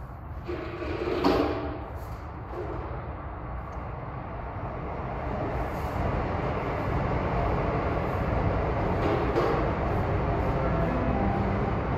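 A Long Island Rail Road train bound from Ronkonkoma to Penn Station rolls into Elmont station with a broad, steady rumble that builds gradually and holds, plus a few faint higher squeaks and clanks.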